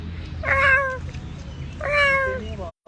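Two loud, drawn-out cat meows about a second and a half apart, close up, with no one talking.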